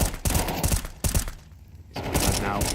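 Rapid gunfire in a Counter-Strike 2 esports match at the PGL CS2 EU RMR 2024, loud bursts of shots followed by a brief lull, under an excited caster's commentary.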